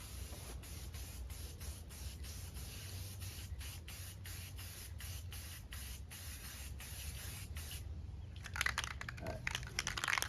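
A spray can lays semi-gloss paint onto a Harley fuel tank in a steady series of short hissing bursts, quiet and close, with a louder, rougher spray near the end.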